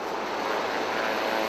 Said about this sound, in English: It's easy to see when the Sikorsky is struggling.